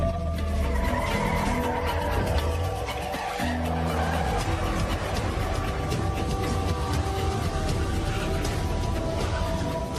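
Car tires squeal and skid during an action-film car chase, with a long continuous screech and engine roar, loud and close.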